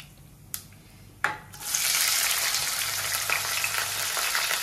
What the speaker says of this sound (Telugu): చూడండి, ఆనియన్స్ ఫ్రై అవుతా ఉంది కదా